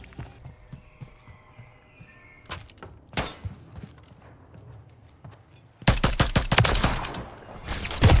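Video game gunfire: scattered sharp shots at first, then a loud rapid burst of automatic fire with dense repeated cracks toward the end, over light background clatter.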